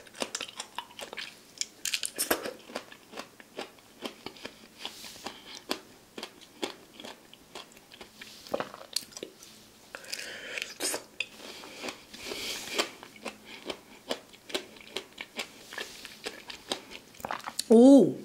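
Mangosteen fruit being eaten up close, with steady wet chewing and small crunchy bites repeating throughout while people talk over it.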